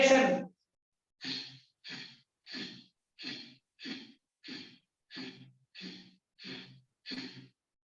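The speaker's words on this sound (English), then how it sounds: "Now we are breathing by the right nostril." Rapid forceful breaths through the right nostril during a pranayama exercise, about ten sharp, evenly spaced exhalations following an initial longer breath, close and alone.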